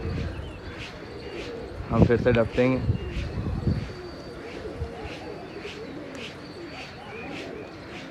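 Pigeons on a rooftop coo and chirp in repeated short bursts while someone talks loudly over them for a couple of seconds.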